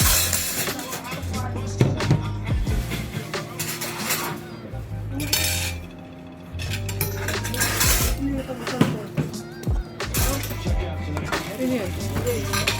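Plates and dishes clink and clatter during a home meal of fried beef steak in the Philippines, with scattered ceramic knocks and cutlery taps heard under steady conversation from several people at the table.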